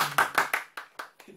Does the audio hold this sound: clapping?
yes